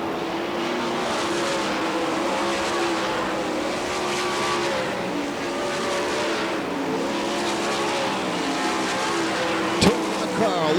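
Sprint cars roaring through a 10-lap heat race at a Florida dirt track during the Winternationals, engines droning and shifting as the pack circles continuously, with an announcer's voice mixed into the loud, steady din.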